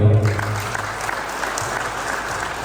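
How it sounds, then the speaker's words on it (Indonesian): A crowd at a public gathering bursts into applause, dense clapping holding steady and close for a few seconds with no pause. "Tepuk tangan untuk beliau"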